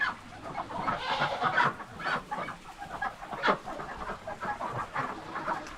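Chickens clucking on a farm, with a steady scatter of soft, irregular clucks and calls at moderate distance over faint background noise.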